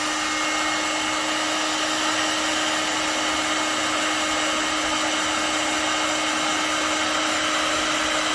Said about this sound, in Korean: 요 열풍기가 혹시 있으시면, 열풍기 없으시면 드라이기로 제일 세게 하셔도 되고요